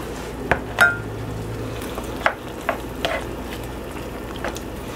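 A pot of chicken adobo with liver and gizzard simmers and bubbles under a soft frying hiss, broken by scattered clinks and light knocks from a spoon or pot lid.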